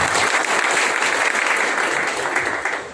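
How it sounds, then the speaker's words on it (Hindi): An audience at a motivational business event in Boisar breaks into loud, sustained applause, a thick continuous wash of clapping that fades slightly at the end. "अजीत शुक्ला सर के लिए भी जोरदार तालियां"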